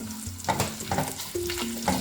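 Raw mango pieces being sautéed in a browned onion tempering give a brisk frying crackle with scraping stir strokes, under a soft background tune with sustained tones.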